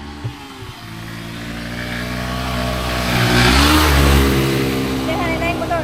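A motorcycle engine revs up and swells as it passes close on a road near Tumalog Falls in Oslob, Cebu, then fades, with voices talking in the background.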